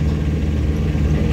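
A Tata Ace mini truck's engine running in fourth gear, a steady low engine drone with a continuous rumble that holds level throughout, close and fairly loud, with no talking over it.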